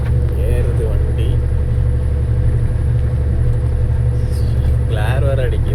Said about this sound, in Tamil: ஏறுது வண்டி.